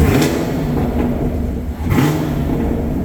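Revving V8 engine of a 2019 Chevrolet Camaro 2SS, a steady loud rumble with a couple of throttle blips, heard close and alone without talk.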